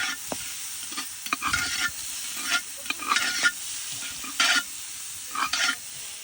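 Onion and carrot frying in lard inside a cauldron over an open fire, a steady close sizzle broken by several louder bursts of stirring and crackle.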